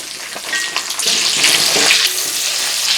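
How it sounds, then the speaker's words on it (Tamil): Sliced onions hitting a hot pan with spices and frying, a loud bright sizzle that swells and holds steady over three seconds. "நம்ம கட் பண்ணி வச்சுக்கிற பெரிய வெங்காயத்தை சேர்த்துக்கலாம்"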